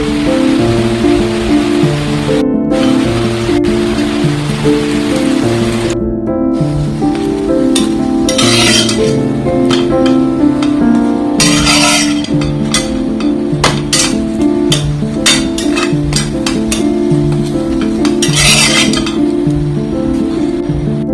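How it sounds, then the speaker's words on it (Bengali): Vegetables stir-fry in a pan, a loud continuous sizzle with repeated scraping and clinking of a spatula against metal throughout, with no voices. "এরকম করে আমি সবজি ভেজে নেব।"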